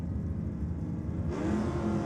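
Drag racing at Sydney Dragway, a Ford Falcon and a Holden HB Torana, heard as a low car engine rumble that steps up abruptly into a louder rev partway through.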